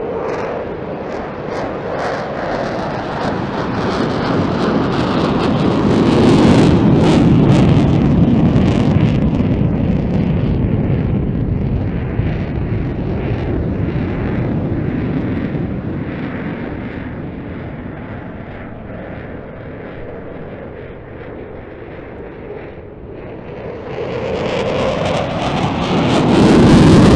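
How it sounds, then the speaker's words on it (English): An RAF Typhoon jet with afterburners lit at an airshow display, a loud sustained roar that swells and fades as it accelerates away, with wind buffeting the microphone and no speech. "Kicking the burners back in now, the jet will accelerate"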